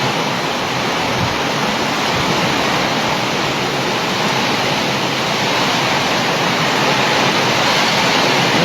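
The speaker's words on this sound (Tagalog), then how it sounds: "Malakas ang hangin." Loud, unbroken roar of strong typhoon wind blasting past in Northern Cebu, a dense rushing noise with no pauses or voices.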